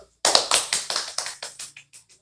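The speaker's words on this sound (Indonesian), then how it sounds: "Silakan beri tepuk tangan untuk kelompok 1." Students in a classroom clap for group one, a short burst of brisk hand claps that starts abruptly and tapers off over about two seconds.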